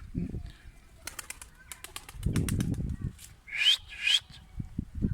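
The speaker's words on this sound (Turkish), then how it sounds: "Şuradan bir kuş dikkatimi çekti. Şöyle gitti geliyor şu anda." Bursts of a gull's wing flapping come and go near the listener as it flies back and forth by a rooftop, mixed with a couple of short bird chirps and faint rustling.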